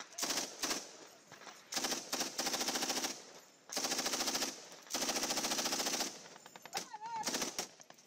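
Heavy machine-gun and rifle fire crackles in sustained automatic bursts during a combat firefight in Afghanistan, loud and close, with brief gaps and a shouted voice near the end.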